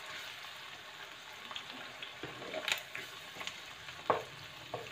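Medan anchovies frying in a pan give a steady, soft sizzling hiss, broken by a few light clinks of a utensil, with no one talking.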